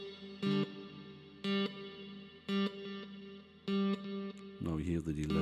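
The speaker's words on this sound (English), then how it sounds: "Now you hear the delay" Repeating sung or spoken notes run through a delay effect on a Behringer Flow 8 mixer, each short burst followed by fading repeats, evenly spaced at about one per second before a busier, smeared passage at the end.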